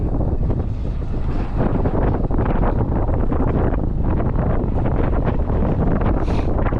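Steady wind rushes and buffets across the microphone the whole time on Mayon Volcano, a dense, roaring broadband noise with no talking.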